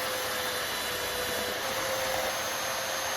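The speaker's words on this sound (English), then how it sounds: "I cleaned them up a little on a little disc sander that I had from the Lidl, the Parkside" A small Parkside disc sander whines steadily as it smooths wooden coat rack pieces, a constant loud motor drone with a faint rasp of abrasive on wood throughout.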